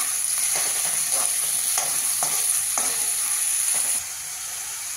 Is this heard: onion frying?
yes